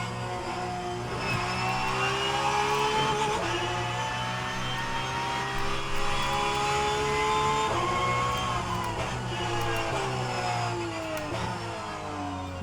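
A Porsche 992 race car at Laguna Seca in rFactor 2, its engine droning loudly with clear harmonic whine, revs rising through the gears and dropping sharply on downshifts and braking, continuous and close.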